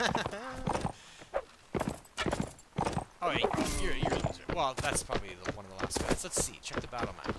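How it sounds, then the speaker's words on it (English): Horse hooves clatter in a rhythmic clip-clop during a medieval battle in Mount & Blade: Warband, mixed with combat effects while someone talks over them throughout. "Oh no, my horse just ran him over."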